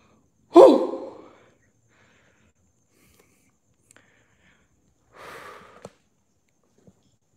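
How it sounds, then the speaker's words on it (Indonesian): A single loud sharp breath, like a gasp, taken to steady oneself, followed after a pause by a softer breathy exhale, close up and otherwise quiet. "Aku atur nafas"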